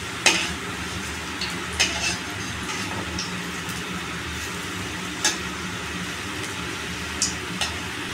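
Homemade mutton chops fry loudly in a pan with a constant crackling sizzle, punctuated by occasional sharp taps and scrapes of a utensil turning the pieces.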